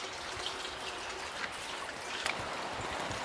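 Natural spring water flowing and trickling steadily outdoors, a soft continuous splashing wash with small drips, fairly faint and close.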